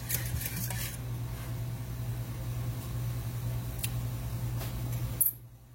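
Spoon stirring fish oil into a white fish sauce in a pan, a soft continuous scraping under a steady low hum, with a couple of light clinks before it stops abruptly near the end.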